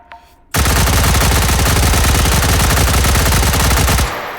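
Sustained full-auto burst from an M231 firing port weapon in the VR shooter H3VR, a loud continuous rattle of rapid gunshots lasting about three and a half seconds before cutting off.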